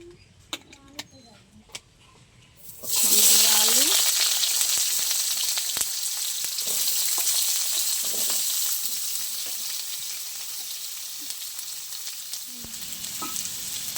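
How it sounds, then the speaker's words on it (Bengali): After a few quiet seconds with a voice, potatoes hit hot mustard oil in a wok, bursting into a loud, close sizzle that settles into a steady hiss, with talking over it. "কড়াই আবার একটু সরষের তেল দিয়ে দেবো আলুটা ভাজার জন্য।"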